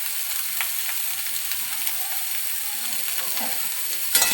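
Sweet mango pickle with salt cooking in a pan, a steady hissing sizzle with faint scraping of stirring underneath, moderately quiet, ending in a brief louder clatter, with no talk.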